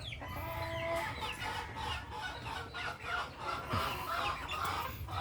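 A small flock of hens and roosters clucks close by on a farm, with repeated soft clucks and a few higher squawks overlapping steadily against a low rumbling background.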